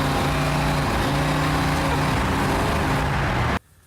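Car engine revving at high RPM with a faulty Rochester Quadrajet carburetor, a loud, steady droning roar with a slightly wavering pitch that cuts off abruptly near the end.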